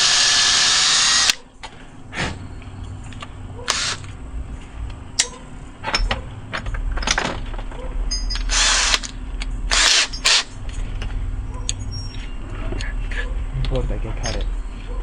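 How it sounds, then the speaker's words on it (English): A power drill boring pilot holes into wood for a security plate, several short high-pitched whirring bursts separated by pauses, close and loud, with a person speaking in between. "always pre-drill your holes, so this job will last many years and your wood won't split out on you"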